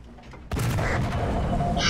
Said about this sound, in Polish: to niemiecka pelotka przecież